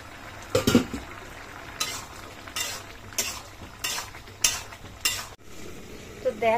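Bottle gourd and potato curry stirred in a frying pan: repeated scraping spoon strokes roughly every half second to second, over a soft sizzle, close and fairly loud with no talking.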